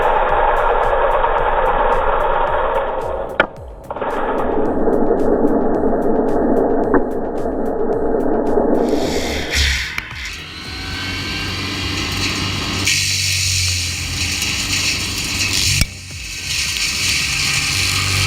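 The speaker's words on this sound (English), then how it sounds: "The Terex PT-110, paired with the Denisimath mulching head, works like a tree magic machine." Heavy Terex PT-110 forestry machine running a Denisimath mulching head, grinding a tree trunk into mulch: a loud, continuous engine roar with shifting grinding tones and brief dips as the head bites into the wood.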